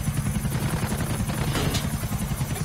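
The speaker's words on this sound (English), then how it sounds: "It's really hard to fly helicopters in GTA." A helicopter in the video game GTA 4 flies with a steady, dense rotor thrum and engine drone, constant and moderately loud, with no voices.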